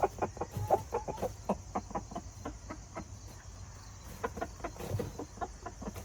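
A rooster in a nest box makes low, rapid clucking and murmuring calls in bursts, close by, with a steady insect-like hum in the background.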